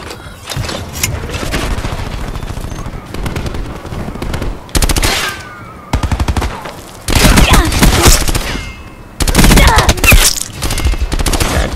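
Call of Duty Black Ops 4 Team Deathmatch gunfire: loud, close bursts of rapid automatic fire in several volleys separated by short pauses, with scattered single shots between them.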